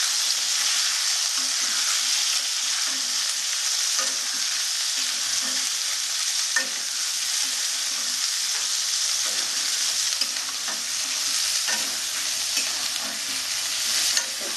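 Green peas and slit green chilies fry in a pan of hot oil for a Bengali-style cabbage dish, a steady close sizzle with occasional stirring scrapes throughout, no talking.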